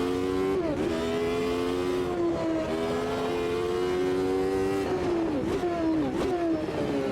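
A race car engine in Automobilista 2 drones steadily at high revs, loud and close, with several brief dips and rises in pitch as gears shift, running alone without talk.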